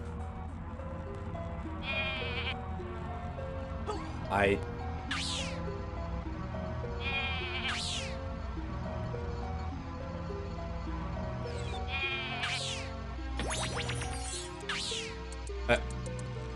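Repeated sheep bleats from the video game Rocket: Robot on Wheels, several separate cries over a bed of game music.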